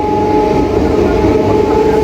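Inside a moving passenger train, a loud, steady rumble and rolling hum of the carriage fills the space, with a constant low drone and no breaks.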